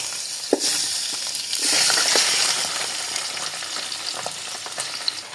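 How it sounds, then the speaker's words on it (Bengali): Cinnamon, cardamom, cloves and marinated chicken frying in hot oil for chicken biryani or morog polao, giving a steady, close sizzle that swells as the meat goes in and stays loud throughout, with no talking. "এখন আমি গরম তেলে দারচিনি, এলাচ, লবঙ্গ দিয়ে দিব। এবার আমি ম্যারিনেট করা মাংসগুলো দিয়ে দিব।"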